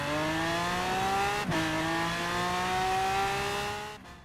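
A race car engine in the video game Forza Horizon 4 drones loudly and steadily, pitch climbing through a shift midway, then cutting off near the end.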